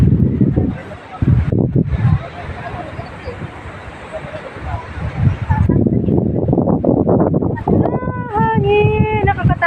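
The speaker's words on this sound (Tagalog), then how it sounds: "Ang hangin, sobra." Strong, cold wind buffets the microphone on open high ground, rumbling in gusts that drop out briefly, while people talk over it.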